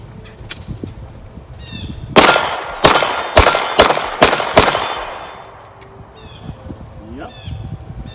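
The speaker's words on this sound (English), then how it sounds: "Let's just get to shooting and see what it's like." Canik TP9 Elite SC pistol firing 124 grain FMJ rounds outdoors, six sharp loud shots in an uneven string with ringing metallic echoes, preceded and followed by quieter rustling and faint voices.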